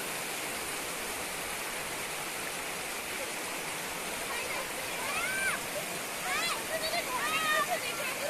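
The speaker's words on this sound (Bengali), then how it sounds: "এইটাই ঝর্ণা বলছি, এই ঝর্ণাটা উপরে আছে।" Waterfall in Pasighat, Arunachal Pradesh, pouring in a constant broadband rush, with voices talking over it toward the end.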